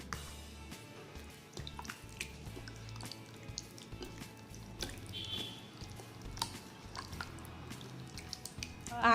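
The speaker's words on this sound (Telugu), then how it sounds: "ఇప్పుడు ఈ చికెన్ పీసెస్ అన్నీ ఇందులో వేసేసి మనం బాగా కలుపుకుందాం" Raw chicken pieces squelch wetly as they are mixed by hand into a spice marinade, with soft drips, squishes and intermittent clicks of the bowl running steadily throughout and no speech.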